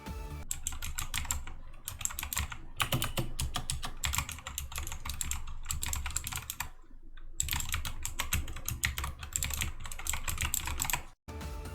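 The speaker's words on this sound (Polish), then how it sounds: "na casualach zazwyczaj po prostu słyszycie tą klawiaturę" Typing on a new SPC Gear computer keyboard, with dense bursts of crisp key clicks close up, broken by a few brief pauses, and no talking.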